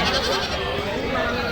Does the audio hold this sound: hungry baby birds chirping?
no